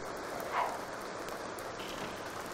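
Steady rainfall in The Sims 2 video game patters continuously on surfaces, an even hissing shower heard alone at moderate level with a brief swell near the start.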